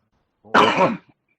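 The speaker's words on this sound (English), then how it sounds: "I had to stop and cough there for a second" A single close, harsh cough, one short burst breaking a silence, followed by a tiny throat sound.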